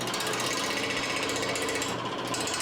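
A wood lathe spins a heavy red oak crotch bowl blank held on a worm screw with tailstock support. It gives off a steady, dense rattling rumble as the machine shakes, loud and continuous with no pauses.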